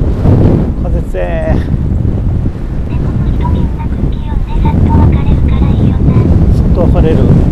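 Loud, steady wind buffets the microphone while cycling a hilly coastal road near Nagato, Yamaguchi, a heavy low rumble that never lets up, with a voice talking faintly beneath it.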